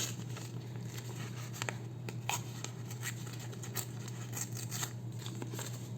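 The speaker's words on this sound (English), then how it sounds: "And then I'm gonna tear this." Paper being torn for a handmade craft project, a quiet close series of short ripping and crinkling scratches over a low steady hum.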